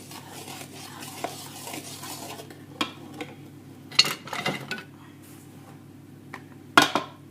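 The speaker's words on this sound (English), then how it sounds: "So I tend to add this in just gently to begin with and stir it around a bit." Spoon stirring a triple chocolate brownie mixture in a bowl, a soft steady scraping with a few sharper clinks against the bowl, close and fairly quiet, with no talking.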